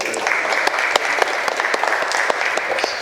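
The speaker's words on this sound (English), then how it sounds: "Please, a round of applause again." Audience applause at a memorandum of understanding signing ceremony between AMA MED and ECHITAB Study Group: sustained, even clapping from a room full of people with sharp individual claps standing out, steady throughout.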